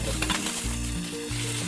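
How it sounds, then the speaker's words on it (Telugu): Onion pieces dropped into about four ladles of hot oil for a prawn curry, frying with a steady, close sizzle and a few light stirring scrapes, no voices. "4 గరిటెలు ఆయిల్ వేడెక్కిన తర్వాత ఉల్లిపాయ ముక్కలు వేసుకోవాలి."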